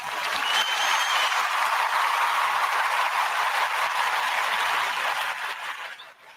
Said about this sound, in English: Can y'all hear this applause?